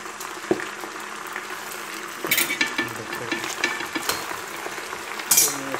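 Saag greens are stirred in a cooking pot, giving scraping, clinking and rattling strokes with a faint sizzle underneath, close and fairly steady with a few sharper knocks.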